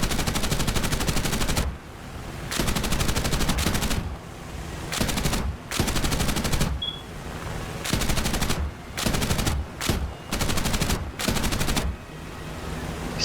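Long sustained bursts of .50 cal machine gun fire from an A-35B in War Thunder, loud and close, broken by short gaps between bursts across the whole stretch.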